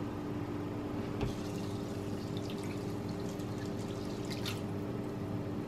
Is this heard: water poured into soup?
yes